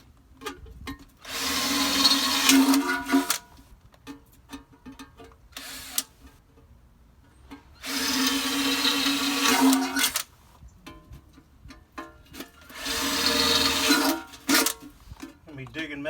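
A power drill with a quarter-inch bit whines into a metal container in three bursts of a few seconds each, separated by pauses with brief talk in between.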